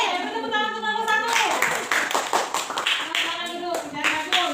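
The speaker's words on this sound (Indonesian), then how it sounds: "Tepuk tangan untuk kelompok satu." A primary school class applauding in a classroom, many hands clapping close and loud in a dense burst, with a speaking voice over the start and children's voices mixed in.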